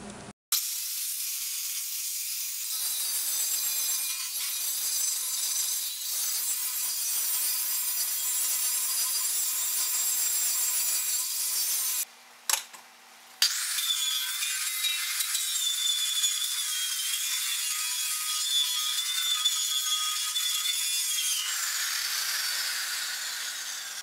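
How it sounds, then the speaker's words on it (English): Angle grinder grinding down the sharp welded edges of a John Deere 60 tractor rim, a steady loud abrasive hiss lasting about twenty seconds with one brief pause midway, heard alone. "I'm going to grind it down to get rid of all the sharp edges so that tube doesn't rub on it and break."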